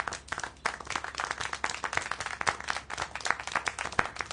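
Applause and clapping from the video game Syberia: a steady run of sharp, distinct hand claps, close and fairly loud, keeping an uneven rhythm for several seconds with no talking over it.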